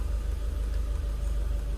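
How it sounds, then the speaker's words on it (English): A Volvo V40 engine with a faulty camshaft reset valve runs at a steady idle, a low continuous rumble that stays even throughout, with no talking. "start the engine, switch it off and start it again a few times"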